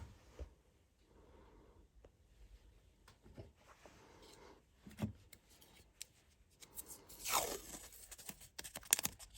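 Masking tape pulled off a roll and torn by hand, quiet scattered rustles building to a louder ripping tear and a few sharp snaps near the end, heard close.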